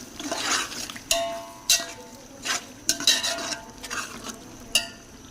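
Spices for black chickpea pulao frying and being stirred in a pan, a soft steady sizzle broken by several sharp scrapes and clinks of the spoon against the metal.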